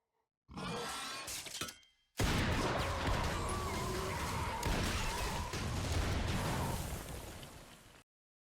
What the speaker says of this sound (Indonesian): Namun sebelum menggapai Sedi, Boogeyman terlebih dahulu terkena ledakan ranjau.